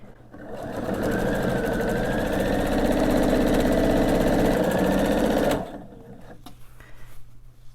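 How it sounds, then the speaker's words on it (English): A sewing machine runs steadily while stitching quilt binding, back-stitching briefly at the start and then sewing toward a corner, a loud continuous whir for about five seconds before stopping abruptly into quiet room noise. "I'm going to back stitch here just a little bit at the beginning and just going to sew till I get to a corner"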